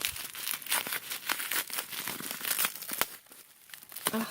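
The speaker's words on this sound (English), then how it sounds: "Okay, let me unwrap that." A wrapped Jouer blush duo makeup package being unwrapped: close, loud paper crinkling and crumpling in irregular bursts, with a few short tearing rips.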